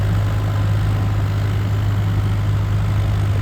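A Swaraj 855 4x4 tractor's diesel engine runs in a rain-soaked field, a loud, steady low rumble with no break or talk.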